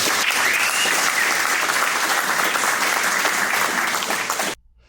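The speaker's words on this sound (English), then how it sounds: "y'all give yourself a round of applause for putting some donkeys in there" Loud, continuous applause from a crowd at a kayak bass fishing tournament, a dense unbroken roar of clapping that holds steady for over four seconds before cutting off abruptly.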